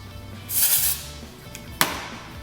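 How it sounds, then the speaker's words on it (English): A can of dry texturizing spray hisses onto hair roots in a short, close burst, followed by a sharp tap a moment later. "I'm just going to finish with some dry texturizing spray at the roots to give it some grit and some more volume"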